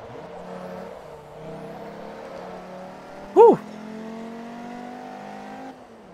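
Car engine in Forza Motorsport 3, a steady moderate hum slowly rising in pitch with one brief sharp blip partway, fading at the end, alone without talk.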